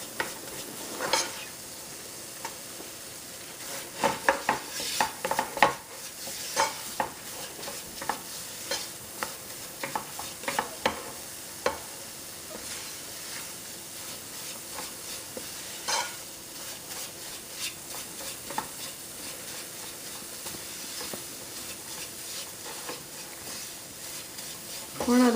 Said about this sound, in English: Keep on mixing it so you don't burn it.